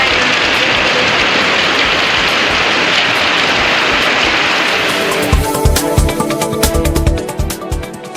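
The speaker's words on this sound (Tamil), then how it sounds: "தாளவாடி சுற்றுவட்டார பகுதிகளில் கனமழை பெய்தது" Heavy rain pours down in the Thalavadi area, a dense, loud, steady hiss that gives way after about five seconds to sharper, closer drops and patters, with no voices.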